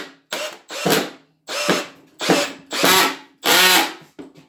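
A Milwaukee M18 brushless drill/driver strains to drive a screw into rock-hard solid wood, giving six short, loud bursts of whirring and ratcheting as the bit slips and the screw bounces out, each burst separated by a short pause.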